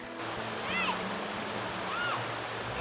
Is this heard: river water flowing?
yes